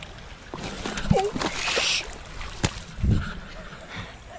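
A hiker's foot plunges into a stream with a couple of short, close splashes among rocks, amid flowing water, with people talking over it.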